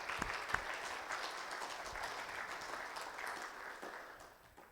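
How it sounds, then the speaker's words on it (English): An audience gives a quick round of applause for participating kids at a leadership recap gathering, a steady, moderately quiet patter of many hands that fades slightly toward the end. "Let's just give them a round of applause real quick."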